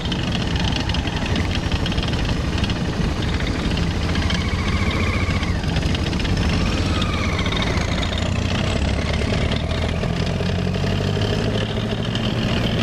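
A loud, steady GAZ truck engine rumble heard inside the cab fills the whole clip, constant and close, with a faint rising whine drifting above it.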